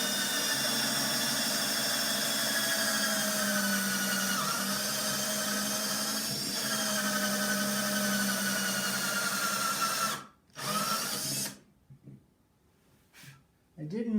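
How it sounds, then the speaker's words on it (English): A drill bores into an acoustic guitar to fit a K&K Pure Mini pickup, a steady high whine running for about ten seconds before stopping and restarting in short bursts, with a voice talking over it. "We're going to do a little drilling here and see how this goes."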